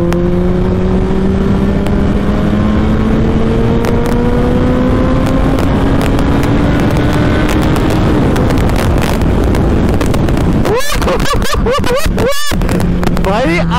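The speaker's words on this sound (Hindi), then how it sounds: "भाई आंधी तूफान की तरह ये बाइक जा रही होगी" A Suzuki Hayabusa motorcycle drones loudly at speed along an empty road, the engine pitch climbing gradually under heavy wind rush, with a few sharp crackling bursts near the end.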